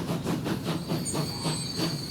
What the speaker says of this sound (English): The train's down here, dude.